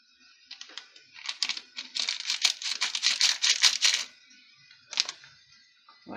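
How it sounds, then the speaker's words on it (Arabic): Fine baking powder from a packet rustling and crinkling as it is emptied over two cups of sifted flour in a bowl while making a banana cake, a close, busy run of small papery taps and crackles with a brief later burst. "فضي بقى عليهم كيس البيكنج باودر"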